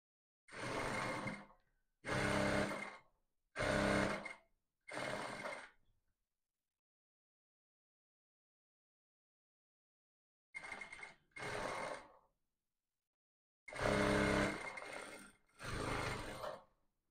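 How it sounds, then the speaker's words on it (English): A sewing machine stitches a sleeve into the armhole of a buba top in short close bursts, four quick runs, a long pause, then several more runs of steady whirring. "And you're going to sew up the sleeve into the armhole."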